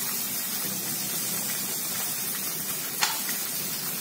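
Chopped tomatoes and other ingredients fry in a pan, giving a steady, moderate hiss and sizzle throughout, with one faint clink of a utensil partway through.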